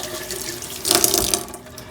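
Warm tap water runs into a sink while an epoxy-coated tumbler cup is washed with a sponge: a steady hiss that swells louder for about half a second, then settles back to a softer flow.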